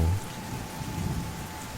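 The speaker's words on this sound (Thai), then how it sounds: "ที่เสียงสายฝนได้ดังเข้ามา" Constant hiss of rain falling, even and unbroken for a brief moment, with a low rumble underneath.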